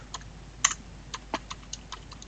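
Someone types a command on a computer keyboard: a short run of light, irregular key clicks, close and fairly quiet, with no voices over it.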